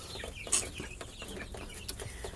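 Buff Orpington hens clucking softly in a backyard flock, a few short scattered clucks and murmurs at moderate distance while the birds are handled, with no speech.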